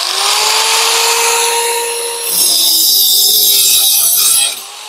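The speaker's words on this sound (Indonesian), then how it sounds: "Yang pertama kita coba potong besi guys ya." An angle grinder fitted with a gold multipurpose cutting disc cuts through iron. A high spinning whine turns into a harsh, loud grinding rasp, then the grinder stops abruptly.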